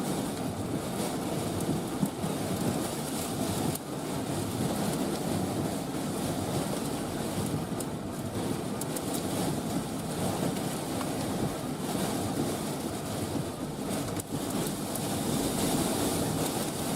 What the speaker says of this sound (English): You can see the rain curtains in front of us are just flying.